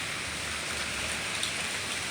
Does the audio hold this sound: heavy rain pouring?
yes